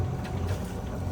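Sailboat motor sailing at sea, with a steady low engine drone under a continuous rush of wind and water, even and moderately loud throughout.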